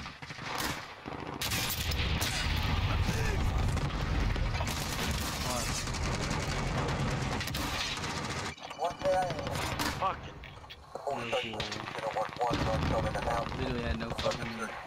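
Video game gunfire: rapid automatic bursts and heavy shots stacked densely over several seconds, loud and close, with a player talking over the action and some music underneath.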